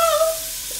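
Chicken meets hot bacon fat in a pot, giving a steady soft sizzle with a brief ringing tone at the start that fades under the continuous frying hiss.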